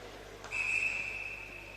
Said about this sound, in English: We've got a whistle here.